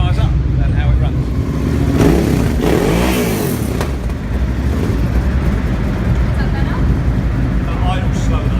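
A racing motorcycle engine with a newly replaced throttle body fires up and runs, rumbling steadily with a rising rev partway through, while people talk nearby.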